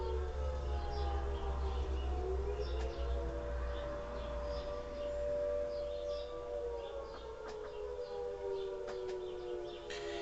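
A Carter civil defence warning siren at a fire station in Wellington, New Zealand, drones with a wavering pitch over a low rumble, sounding from a distance, with a few faint chirps now and then.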